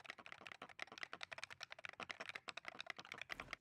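Rapid, busy typing on a budget $20 Hall Effect keyboard, a dense run of sharp, close clicks and clacks with no pauses and no voices.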